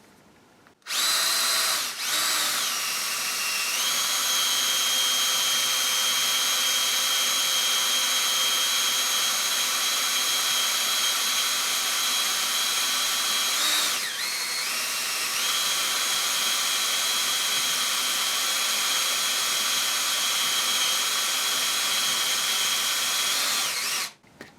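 Bosch GSB 18V-28 cordless combi drill bores steadily through a centre-punched, oiled workpiece with a somewhat blunt bit, a loud continuous whine that holds a constant pitch for over twenty seconds with a brief dip midway.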